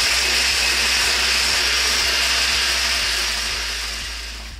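An electric mixer beats eggs and sugar in a bowl with a continuous, loud whirring drone and a low steady hum, easing slightly toward the end.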